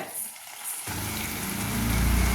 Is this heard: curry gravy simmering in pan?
yes